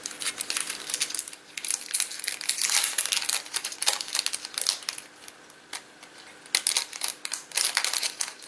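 Crinkly plastic packaging around craft cutting dies being opened, giving continuous close crackling and crumpling with sharp rustles and a few tearing bursts, no talk.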